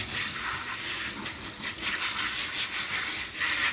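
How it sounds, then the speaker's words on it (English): Running water splashes and rushes steadily over rose petals being rinsed, a close, continuous hiss with small fluctuations and no talking. "And then I am going to rinse them with distilled water."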